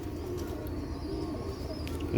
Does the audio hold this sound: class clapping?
no